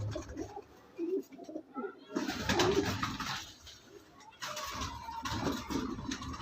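A record-holding breeder pigeon belonging to Akmal Khan coos in soft repeated bursts nearby, with other birds and background noise around it.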